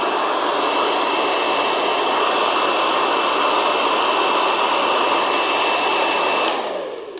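A 2.2 kW hair dryer blows steadily with a loud, even whooshing hum and a faint high whine, then switches off and winds down at the end.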